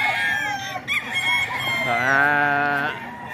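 Roosters crow loudly and close by, with short clucks between the drawn-out calls.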